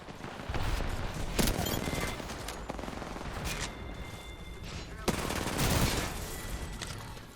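Rapid gunfire bursts from a first-person shooter game ring out loud and steady across the stretch, with sharp volleys near the start and again toward the end, and a voice faintly underneath.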